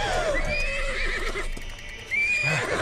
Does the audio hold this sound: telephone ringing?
no